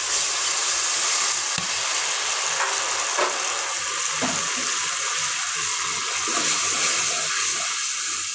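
Water hits hot spices in a cooking pan, setting off a loud, steady sizzling hiss with soft bubbling and a few stirring knocks, close up and without talking.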